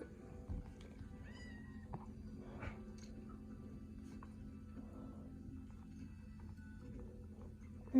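A cat meows a few times in Minecraft, the cries thin and high over a steady low electronic hum, with no one speaking.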